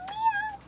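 A short, high, wavering meow, a voice imitating a cat.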